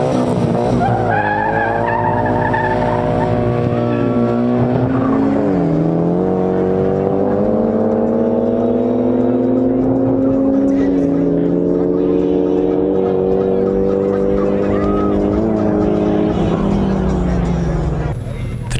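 A Nissan Silvia S15 and a Skyline run at a drag strip, loud engines revving with rising and falling pitch through gear changes, sustained throughout with crowd noise and talk beneath.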